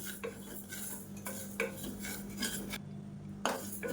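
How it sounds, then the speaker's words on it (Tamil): Moong dal dry-roasts in a pan with a utensil scraping and stirring in irregular bursts, soft scratchy rustles and light metallic scrapes close by, with no voices and one brief pause near the end. "இப்போ இது வாசனை வர்ற அளவுக்கு வறுத்து விட்டுக்கலாம்"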